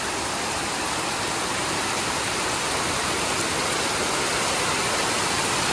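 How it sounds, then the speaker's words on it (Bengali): Heavy monsoon rain pours on a small village hut, a dense, unbroken roaring hiss that stays steady and loud throughout, with no voices. "একটা মধ্যে এত বৃষ্টি"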